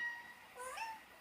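A pet cat meows faintly at a distance, a couple of soft thin cries with quiet room tone around them and no talking.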